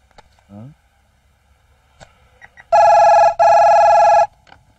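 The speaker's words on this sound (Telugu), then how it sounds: "అయ్యా ఫోన్ అయ్యా." A telephone rings in two loud, bright electronic bursts, close by, after a few faint knocks and a short tone blip in an otherwise quiet room.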